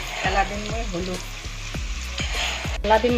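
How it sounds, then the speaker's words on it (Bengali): Steady oil sizzle with crackling pops throughout as potatoes and cauliflower fry, joined by a voice talking over the frying in the background. "আলু আর ফুলকপিতে ভাজা হয়ে গেল"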